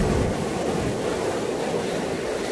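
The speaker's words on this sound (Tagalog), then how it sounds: "The waves." Sea waves washing onto a beach, a continuous broad surf wash with some wind noise on the microphone, fairly close and steady, no voices.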